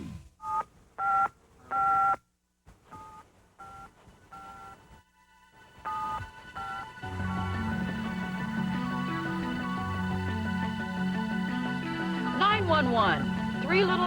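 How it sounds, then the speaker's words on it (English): Touch-tone telephone dialing: a run of short, clean keypad beeps in irregular groups separated by brief silences, followed by a sustained musical bed with a voice talking. "Are you dialing yet?"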